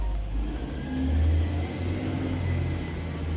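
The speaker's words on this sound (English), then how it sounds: "the rubbish truck is just coming and just ruining everything" A rubbish truck passes outside as a low, steady engine rumble with a brief swell of louder droning at about one second, heard from indoors and fairly faint.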